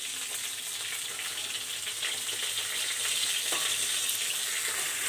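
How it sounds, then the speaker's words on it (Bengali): Katla fish fries in a pan, giving a continuous loud hissing sizzle that swells slightly toward the end, with no voices over it. "দেখো মাছটা উল্টাবে"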